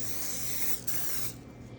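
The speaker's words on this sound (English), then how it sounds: "you're going to take some cooking spray and spray your pan." A cooking spray can sprays onto a pan in a steady hiss for about a second, pauses briefly, then hisses again before stopping; close and fairly quiet.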